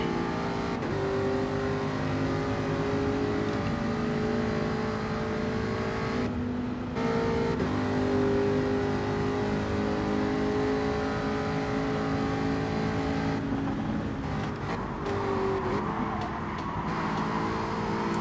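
A car engine in the racing video game Gran Turismo 7 revs and drones steadily, its tone rising and falling as it accelerates and shifts, loud and close throughout with no voices.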